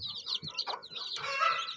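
Native country chickens and chicks on a small farm cluck and peep in quick, close bursts of overlapping calls.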